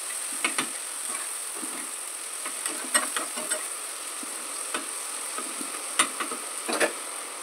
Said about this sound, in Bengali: সর্ষের তেলে বেশ কিছুটা টমেটো কুচি দিয়ে সাঁতলে নেব